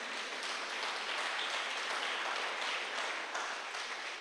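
A church congregation applauds during a sermon, a steady, even wash of many hands clapping at once, moderately loud and continuous with no voices over it.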